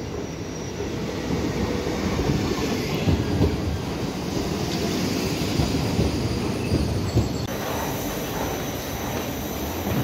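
A train rumbles past on the rails, a loud, steady roar of wheels with faint clattering and a brief high squeal near the end.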